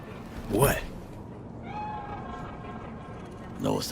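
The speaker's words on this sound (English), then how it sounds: "Do you see it? The cat? Fine-looking feline." A cat meows in Cyberpunk 2077, a couple of drawn-out mews at the start and end with a faint tonal hum in between.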